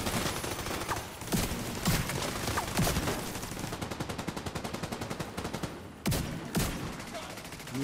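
Bursts of gunfire from the video game The Division 2 crackle through a dense, noisy mix, with a rapid machine-gun stretch in the middle and sharp single shots near the end.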